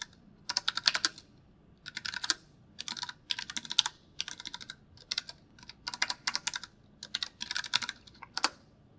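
Close, crisp keystrokes on a computer keyboard come in quick bursts separated by short pauses as someone types commands into a terminal, with no voices.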